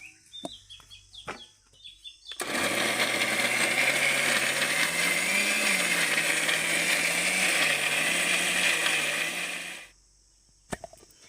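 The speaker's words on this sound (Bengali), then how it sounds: "এবার আমি ঢাকা দিয়ে ভালো করে মিক্সিতে আমটাকে পেস্ট করে নেব" A mixer grinder blending ripe mango whirs loudly and steadily for several seconds, its motor pitch wavering slightly, then cuts off abruptly into quiet.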